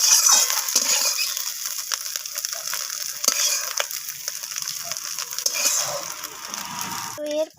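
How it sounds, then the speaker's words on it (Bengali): Whole cumin, dried chilies and bay leaves fry in hot mustard oil in a kadai, a steady crackling sizzle with clicking stirs, moderately close and continuous without speech. "আর ফোড়নে দিয়ে দিলাম গোটা জিরে, শুকনো লঙ্কা আর তেজপাতা। এরপর আমি ফোড়নটাকে একটু ভাজা করে নিচ্ছি।"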